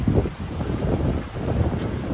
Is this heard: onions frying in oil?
no